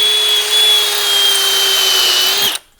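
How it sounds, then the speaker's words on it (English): A power drill with a small bit bores into steel in one loud, steady high-pitched whine lasting about two and a half seconds before stopping abruptly. "I'm starting off with a small drill bit, but look, it's gone down that far and it's still steel."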